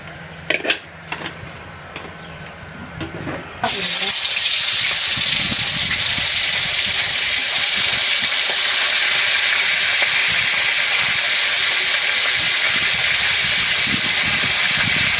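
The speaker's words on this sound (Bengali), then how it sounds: "কড়াইটা গরম হয়ে গেছে, তেল দিই।" After a few quiet clinks, oil suddenly erupts into a loud, steady sizzle in a hot kadai that continues unbroken.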